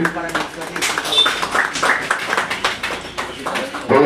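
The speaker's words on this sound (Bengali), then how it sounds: "সম্বর্ধিত করছেন করতালি দিয়ে" Crowd clapping to honour minister Bankim Chandra Hazra at a 76th birthday reception in Rudranagar, a close, loud run of sharp, uneven claps heard beneath someone speaking.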